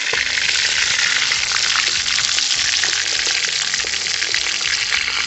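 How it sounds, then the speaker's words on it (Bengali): Tilapia fish frying in oil in a pan, a loud dense hiss and crackle filling the space close up, steady and unbroken throughout with no voices. "আমাদের মাছটা এক সাইড সুন্দর করে ভাজা হয়ে গেছে, এবার মাছটাকে হালকা করে উল্টে দেবো।"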